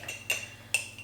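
A plastic chopstick stirring flour and water for a sourdough starter in a container, three light clicking taps against the sides, quiet and close, with no talking.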